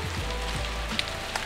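Ice drops from winter trees in a wooded ridge setting, a faint, steady patter of small ticks and light impacts, like sparse rain on a surface, heard at a distance with no talk.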